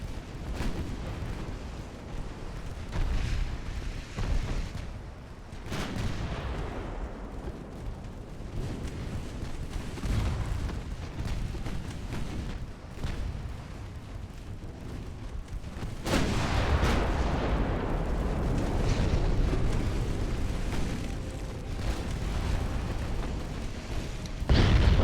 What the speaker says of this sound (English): There's a torpedo detonation.